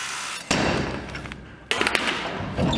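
An air impact gun with a 15/16 socket presses a bushing into a 1966 Ford F100's suspension, rattling in two loud, sustained bursts close by, with a brief pause between them.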